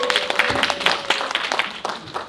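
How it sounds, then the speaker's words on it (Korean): Lecture audience at a Korean book launch and special talk event applauding a lecturer, a steady wash of many hands clapping through the moment, with a faint tone lingering underneath and no clear speech. "큰 박수 부탁드립니다."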